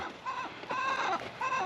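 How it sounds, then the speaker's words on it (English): Homestead chickens clucking close by on a rainy day: three quick bursts of throaty, nasal clucks in succession, clear and fairly loud. "we got 10 chickens out here"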